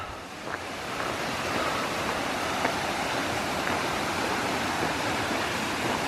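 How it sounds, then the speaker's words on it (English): Steady roaring rush of a spillway waterfall along the Appalachian Trail near Rausch Gap, broad and constant, with no voices. "Actually, I hear a spillway waterfall."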